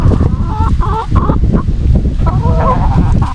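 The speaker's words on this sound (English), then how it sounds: "that is a gold-laced Wyandotte, pretty birds, and this is a Rhode Island Red" Gold-laced Wyandotte and Rhode Island Red chickens cluck and call close by in a coop made from an old livestock trailer, with loud overlapping bursts of clucking and squawks throughout.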